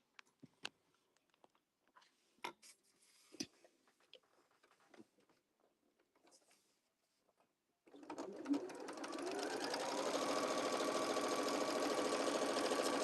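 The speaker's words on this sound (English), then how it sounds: "you are going to sew all the way around 1/4 inch seam" A sewing machine runs a quarter-inch seam around a strawberry-shaped fabric pouch, starting after a few quiet handling clicks and then humming steadily and rapidly at close range until the end.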